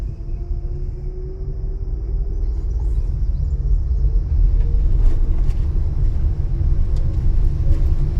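An automatic car's engine rumbles low and steady, growing a little louder as it accelerates, heard from inside the car with faint rattles and no talk.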